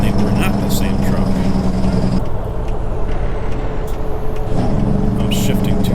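A Kenworth W900 truck in American Truck Simulator runs with a loud, steady diesel drone, and the engine note drops and shifts as gears are changed, while someone talks over it throughout.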